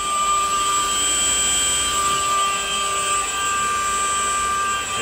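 A Mercedes R129 SL600 V12 idles steadily while warming up in a garage, a constant close drone with a high whine and a few steady tonal hums.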